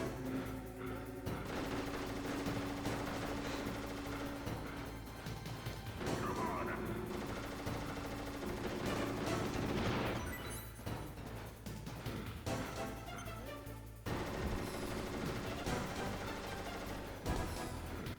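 Vulcan cannon fire in Metal Gear Solid, dense bursts of rapid gunfire with crashing impacts, loud and sustained across the clip with brief gaps, no talk.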